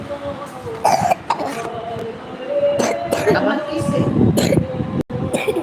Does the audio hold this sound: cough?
yes